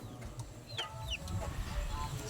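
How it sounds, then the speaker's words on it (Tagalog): Six young birds kept in a captive flock, giving faint chirps and clucks over a steady low background hum, soft and somewhat distant. "Ito yung mga young bird natin na 6"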